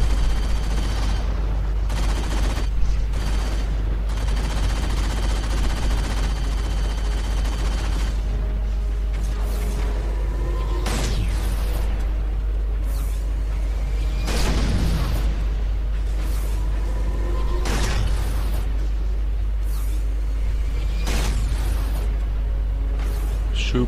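Halo 4 combat erupts in repeated bursts of gunfire and explosive blasts. The loud, sharp volleys and booms hit in clusters every few seconds over a constant low rumble.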